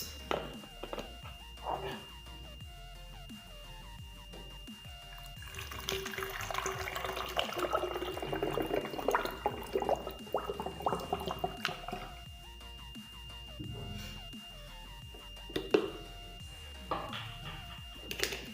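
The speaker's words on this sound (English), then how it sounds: "I'm also going to be using a funnel in order to transfer it" Liquid homemade age-reduction skin toner trickles through a funnel into a container, soft dribbling and splashing with faint drips, fairly quiet.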